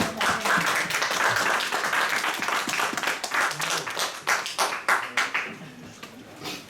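A church congregation applauds to acclaim the Lord, dense steady clapping from many hands that thins into scattered individual claps toward the end.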